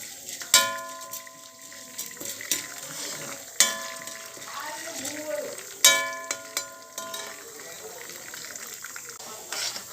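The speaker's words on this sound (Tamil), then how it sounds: "தேங்காய் எண்ணெய் ஊற்றிருக்கேன் முதல்ல அதில் பருப்பு போட்டுடலாம் நல்லா சுவக்க வறுத்துடலாம்" Toor dal roasts in coconut oil in a kadai for spicy thuvaiyal, a soft crackling sizzle broken by several sharp metallic clanks and scrapes of stirring, with some background noise.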